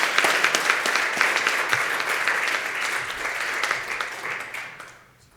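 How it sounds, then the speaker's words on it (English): A crowd claps enthusiastically in a steady burst of applause that fades away toward the end. "let's please give them a big round of applause."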